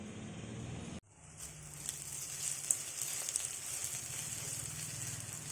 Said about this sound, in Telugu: ఉల్లిపాయ ముక్కలు బాగా ఫ్రై అయ్యాయి కదండి